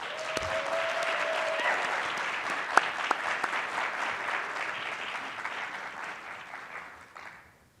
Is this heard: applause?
yes